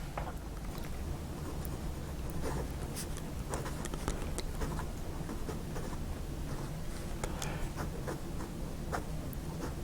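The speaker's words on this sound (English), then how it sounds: "It only requires light pressure to write with, and as you can see, that is an extremely fine line." A Wing Sung 698 fountain pen with an extra fine nib scratches across paper in quick, faint strokes and ticks, close and quiet over a soft room hum.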